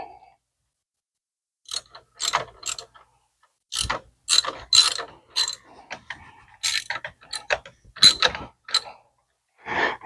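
A hand ratchet with a 15 mm socket tightens the starter nut on a Ford Explorer, with bursts of close, loud, rapid clicking strokes separated by short pauses.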